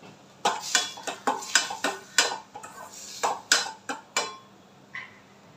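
A utensil clinks and scrapes repeatedly against a pan while bread pieces fried in butter are mixed with salt, about a dozen close, sharp taps in an irregular rhythm, with no talking.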